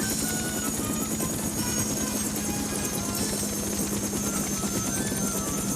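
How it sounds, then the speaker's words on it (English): Helicopters circle overhead in an animated adventure cartoon, a constant fluttering rotor drone with fast rhythmic chopping that holds steady throughout, loud and unbroken, with no speech over it. "The choppers are circling."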